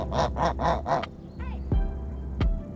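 Free-ranging yard geese honk four times in a quick, loud, rhythmic burst, followed by a brief softer call and a few sharp knocks against a quiet outdoor background.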